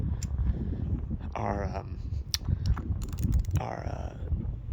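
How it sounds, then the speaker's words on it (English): A socket wrench tightens a part back onto the carburetor of a Huskee tiller, giving quick ratcheting clicks and metallic mechanism noise up close, with a person talking over much of it. "wrench or our socket, and we're gonna tighten this back up"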